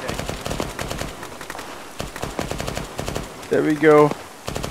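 Machine gun fire in an Arma battle, rapid bursts of rattling shots throughout, close and sharp, with a voice speaking briefly and a tonal in-game sound near the end.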